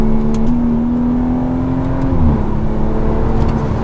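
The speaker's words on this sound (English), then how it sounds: "It didn't seem like my car stopped accelerating just then." A BMW B58 engine accelerating with rolling anti-lag engaged gives a loud, steady drone whose pitch holds, then dips slightly partway through, with no voices.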